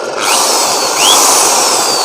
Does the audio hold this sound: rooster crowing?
no